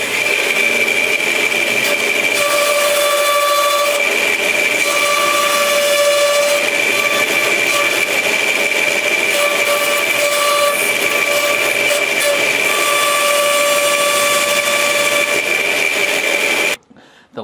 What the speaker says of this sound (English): I'll do that over here on the bandsaw